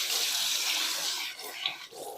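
Quinoa grain is rinsed under running water, giving a continuous rushing splash that eases slightly toward the end, heard close and on its own.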